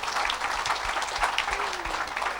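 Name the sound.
congregation applauding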